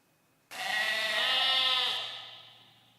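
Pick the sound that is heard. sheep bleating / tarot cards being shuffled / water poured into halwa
sheep bleating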